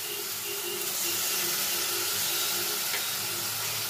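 Tomato paste with ginger, onion, garlic and spices sautéing in a pan over a low gas flame, giving a steady, continuous sizzle and hiss close by with no talking.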